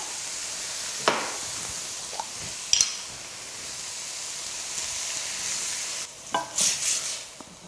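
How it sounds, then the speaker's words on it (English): Tomato sugo hits browned, softened onions in a pan and is stirred: a soft continuous sizzle runs underneath, broken by a few sharp scraping clatters of the spoon against the pan, with a burst of stirring near the end. "That's right to add our sugo in now."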